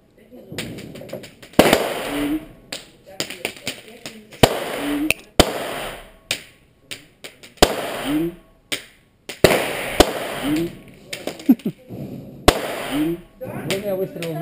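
Sharp, loud gunshots crack one after another at irregular intervals at a shooting range, mixed with nearby speech and some lighter clicks and knocks.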